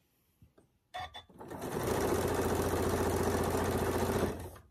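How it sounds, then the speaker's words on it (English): A sewing machine stitching a quarter-inch seam on a shoofly quilt block, a few soft clicks and then a close, steady motor whir that runs continuously for several seconds before stopping. "I'm just going to drop my needle down and I'm just going to start sewing."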